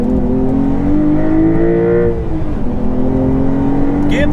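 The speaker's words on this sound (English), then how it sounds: "that blip on the throttle" A Porsche 911 Carrera GTS engine gets a throttle blip, a loud close revving drone that rises and then settles back, with a faint voice underneath.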